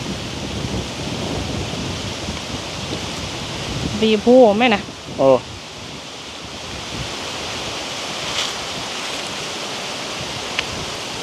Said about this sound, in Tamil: காற்று எப்படி அடிக்குதுன்னு பார்த்தீங்களா? இது சரியான காற்று.